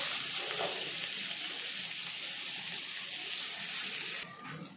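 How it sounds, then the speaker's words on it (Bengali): Chopped onions hit hot oil in a pan after potatoes were fried in it, giving a steady, bright hiss and sizzle that runs continuously before dropping off abruptly near the end. "এখন ওই তেলের মধ্যে দিয়ে দিচ্ছি কুচনো পেঁয়াজ"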